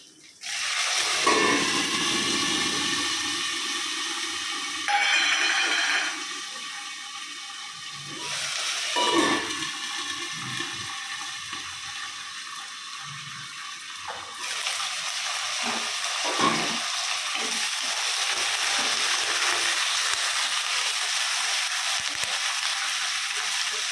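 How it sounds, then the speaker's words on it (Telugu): Green chillies and curry leaves hit hot oil in a pan and crackle into a loud, hissing sizzle, with bursts of spattering and stirring scrapes that keep going throughout. "ఇకమ్మా ఇప్పుడు పచ్చిమిర్చి కరివేపాకు వేస్తున్నాను."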